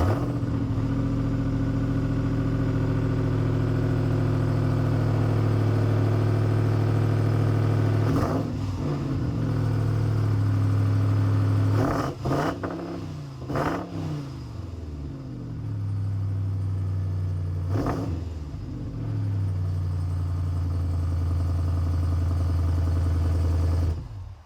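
The supercharged 6.2-liter V8 of a 2021 Ram 1500 TRX, a 702-horsepower truck, idling in a deep, loud, steady rumble, broken by several sharp revs that rise and fall.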